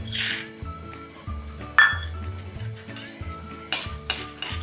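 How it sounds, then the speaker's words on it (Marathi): Roasted chickpea dal being fried in oil for chivda, with a soft sizzle under sharp clinks and scrapes of a metal utensil against the pan, several distinct knocks spread through the clip, close by and without speech. "आता तळून घेऊया हे डाळे"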